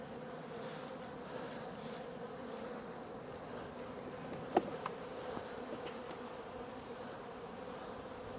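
Honeybees hum in an open hive during a spring brood inspection, a soft, steady buzz with a few faint clicks and taps from handling frames partway through.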